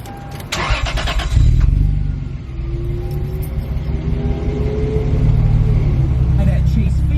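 A Lexus GS with a turbo setup cranks and fires after a short whir, catching with a loud rumble near the start, then settling into a steady, low idle close by.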